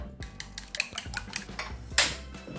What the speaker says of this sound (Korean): 소금 조금 우유 잘 풀어주세요.